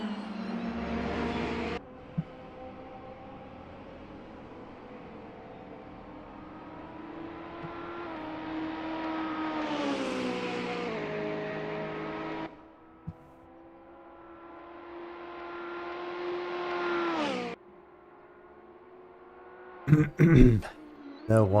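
Alfa Romeo race cars in a championship race pass by one after another, each engine note swelling in pitch and loudness and then cutting away, with sharp clattering bursts near the end.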